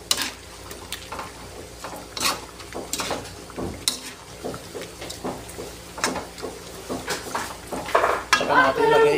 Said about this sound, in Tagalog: Tapos haluin natin para magulo.